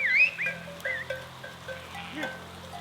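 A sheep flock in snowy highland pasture during lambing season bleats repeatedly, with several overlapping calls at close to middle distance and a faint cowbell-like clink beneath, with no talk.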